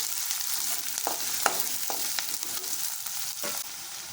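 Chili, onion and garlic sizzling and frying in hot oil in a pan for a tempering, a steady close crackle with a few scrapes of stirring.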